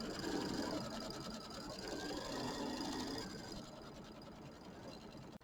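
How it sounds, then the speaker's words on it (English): A sewing machine quilting an ice cream cone and popsicle pattern on a mini quilt, a continuous rapid mechanical whir and needle chatter that runs steadily before easing off near the end, no talk. "step number 5 is going to be my quilting. And it's going to be my little pattern that has ice cream cones and popsicles"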